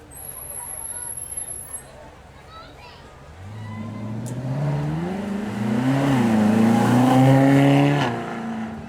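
A Ferrari California with a 4.3-litre naturally aspirated V8 rises from a low rumble into a climbing rev at a supercar hillclimb demo, getting louder and nearer over several seconds.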